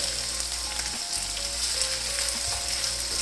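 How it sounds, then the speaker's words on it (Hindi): Cubed potatoes and onion frying in a pan make a steady, close, even sizzle with faint crackles throughout and no voices. "यहाँ पे देखें जी आलू को फ्राई करते हुए मुझे तकरीबन 2 मिनट हो गए हैं"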